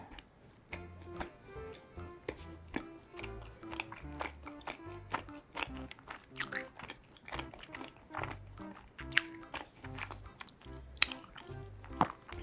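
Someone bites and chews a butter cookie with a macaron-style filling, making close, crisp, sharp crunches and soft mouth sounds in an irregular rhythm.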